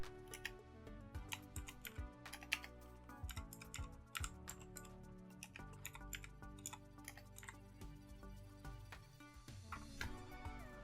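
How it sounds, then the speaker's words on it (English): Fingers type on a computer keyboard, a rapid uneven patter of close, fairly quiet key clicks running steadily throughout with no speech. "we're gonna go ahead and just type in Foxy's Cove"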